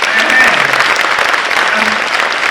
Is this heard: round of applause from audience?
yes